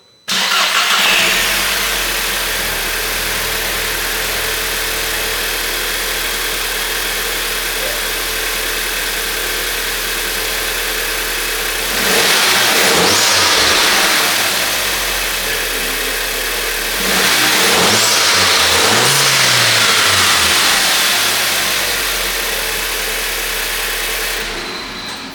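A Volkswagen Jetta engine with a K04 turbo, intercooler and hard pipes cranks and catches, idles steadily, then revs up twice with a rising whoosh of turbo spool, loud and close throughout.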